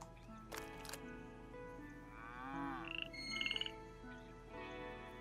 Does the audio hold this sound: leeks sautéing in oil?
no